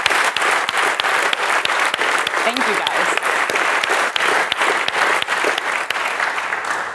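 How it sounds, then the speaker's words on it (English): A conference audience at an opening keynote applauds, loud sustained clapping from a large crowd filling the whole stretch, with a brief spoken thank-you over the top. "giving them a round of applause"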